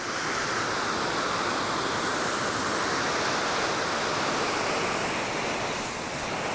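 Strong river current rushes past a fishing spot, a loud, dense and unbroken roar of flowing water that holds steady throughout with no voices.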